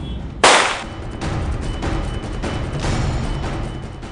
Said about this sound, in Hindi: एक्या ने गोलियां चला दी।